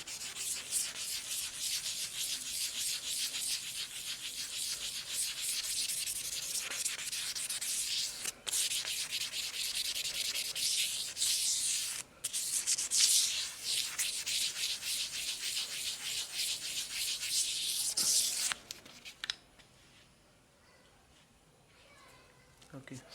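Steady, close scratchy rubbing of 1000 grit sandpaper on a plastic fog lamp lens, continuing with short breaks for nearly twenty seconds before stopping abruptly into near silence.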